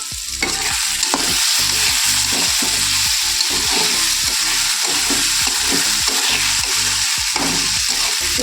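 Leftover chapati dough dish fries in a pan with continuous loud sizzling, while steady, rhythmic stirring strokes scrape and knock through it close up, several per second.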